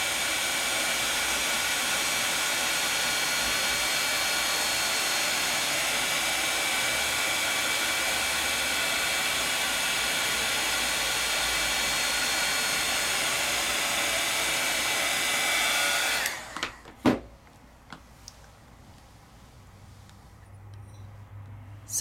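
Heat tool blowing a loud, steady hot-air rush while melting layered embossing powder, running for about sixteen seconds before being switched off, followed by a few clicks and quiet.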